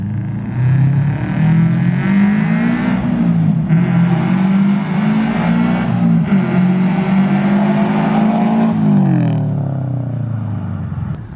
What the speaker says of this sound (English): Honestly, best sounding BRZ ever I've ever heard.